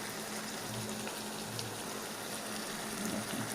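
Eggplant frying in hot oil for a Bengali mashed eggplant dish gives a steady, even sizzle with a broad hiss, continuous and fairly soft at close range, with no voices.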